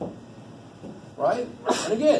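In a math lecture room, someone sneezes twice in quick succession, sharp and moderately close, over a background of room tone, while a lecturer speaks briefly before the sneezes.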